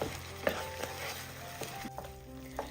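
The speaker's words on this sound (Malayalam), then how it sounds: "ക്യാരറ്റിന്റെ ഒരു പച്ച ടേസ്റ്റ് ഒക്കെ മാറി വരുന്നത് വരെ ഒന്ന് ഇളക്കി കൊടുക്കാം." Grated carrot fries in a pan over a medium flame with a quiet sizzle, while a spoon stirs it in irregular scraping taps. Faint tones sit in the background.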